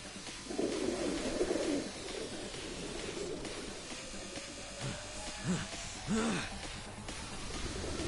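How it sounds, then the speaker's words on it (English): Pigeons coo from the Pigeon Migration skill in the game Yakuza: Like a Dragon, with several throaty warbling coos and flapping swells rising over busy battle sound effects, fairly loud and close. "Pigeon migration."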